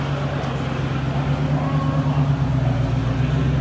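A second-generation 1973 Chevrolet Camaro Z28 with a split front bumper idles nearby at a Mecum auction, a steady low engine rumble with a slight pulse over the surrounding crowd noise.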